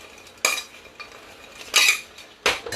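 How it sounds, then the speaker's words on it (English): Fried chips for a Chinese spice bag are stirred with a spoon in a pan, making three sharp metallic clinks and scrapes spaced about a second apart, close and clear against a quiet background. "give it a little stir"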